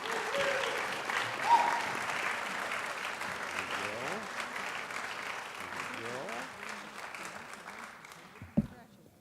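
Sustained audience applause fills an honors night ceremony, steady dense clapping throughout with a brief sharp knock near the end as it begins to fade.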